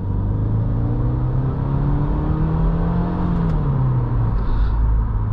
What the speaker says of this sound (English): you kind of like put on the gas, it's going to shift almost like a real gearbox